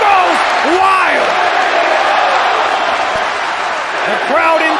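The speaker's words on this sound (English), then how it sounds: "He just landed on our announce table, and the crowd goes wild." A wrestling action-figure show carries a loud, dense crowd roar that rises as a wrestler lands on the announce table, sustained cheering and yelling throughout with voices calling out over it.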